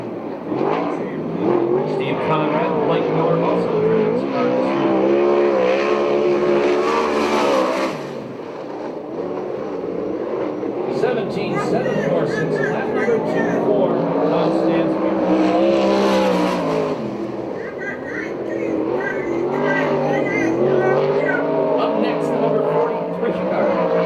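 USAC/CRA sprint cars race around the dirt oval at Perris, California, their engines screaming and swelling in repeated passes over a loud race-track bed, with a public-address announcer talking throughout.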